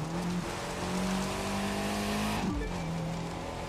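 A monster truck driving in The Crew 2, its steady engine drone holding a constant loud note with a brief gear shift dip partway through.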